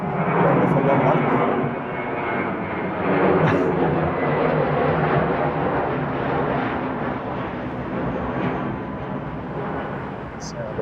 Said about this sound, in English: Sound of a British Airways A320 directly overhead, having gone around.